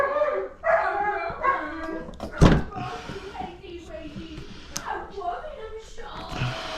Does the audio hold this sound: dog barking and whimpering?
yes